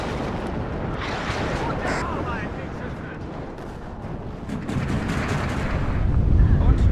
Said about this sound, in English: A lot of rockets.